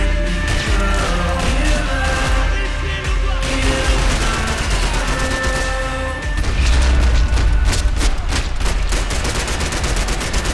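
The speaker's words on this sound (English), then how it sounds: "Grenades." Max Payne 3 firefight with rapid bursts of gunfire and heavy thuds that fit grenade explosions, loud and dense throughout with no speech.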